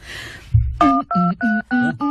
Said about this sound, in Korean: 전화 좀 걸고